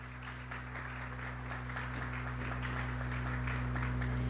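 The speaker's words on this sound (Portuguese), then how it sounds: "Palmas para ele." A seated audience at the opening lecture of a Brazilian coffee fair applauds a vice-president called to the stage; the clapping swells gradually over a loud steady electrical hum.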